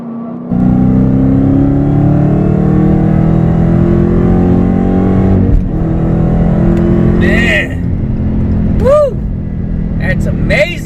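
A car accelerating hard in a quick pull, a loud steady engine roar rising in pitch, then easing off with whirring gear changes near the end; the driver speaks over the engine.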